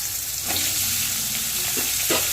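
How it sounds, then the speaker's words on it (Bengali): Potato pieces frying in hot oil left from frying cauliflower, a loud continuous crackling sizzle close up, with a couple of soft stirring clicks and no voices. "আলুটাকেও এবারে লালচে করে ভেজে নেব"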